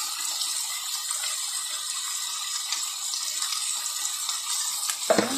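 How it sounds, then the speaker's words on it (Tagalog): A little water poured into a pan of cooking vegetables, a light continuous splashing trickle close by with a few small clinks and a clatter near the end. "nilagyan ko na rin ng konting tubig"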